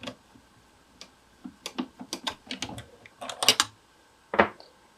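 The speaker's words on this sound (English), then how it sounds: "I'm going to remove the original presser foot." A screwdriver works loose the original presser foot on an industrial sewing machine, a close run of small metallic clicks and ticks in irregular bursts, ending with a louder rattle.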